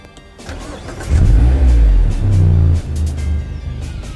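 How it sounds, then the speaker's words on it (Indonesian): A Mazda MX-5 RF cranks and fires up close by, with a loud burst as the engine catches, then settles into a steadier, slightly quieter idle rumble. "Sekarang kita nyalain mobilnya ya."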